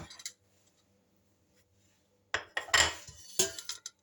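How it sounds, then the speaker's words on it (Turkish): A metal cooking pot is set out in a home kitchen after vegetables are chopped for soup, giving a few sharp clanks and clattering knocks after a quiet pause, close and fairly loud. "şimdi hemen bir tane tencere alıyorum"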